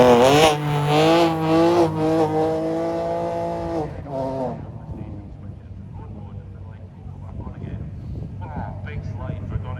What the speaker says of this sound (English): Big slide for Donny McDonald.